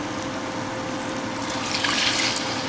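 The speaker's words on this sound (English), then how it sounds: "This is the bouillon cube, just mixed with about maybe 2 cups of water. We're just gonna go ahead and add that into the pan." Bouillon stock mixed with about two cups of water is poured into a pan in a home kitchen, giving a steady close liquid pour that grows slightly stronger toward the end.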